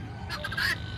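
Chickens in a coop, hens with one rooster, give a short burst of squawking, honking calls, close and fairly loud over a low steady background hum.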